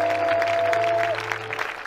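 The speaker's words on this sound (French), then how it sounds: "Est-ce qu'on peut bien les applaudir?" A congregation at an evangelical church crusade applauds, a short burst of dense clapping over a sustained tone and low hum, fading slightly after about a second.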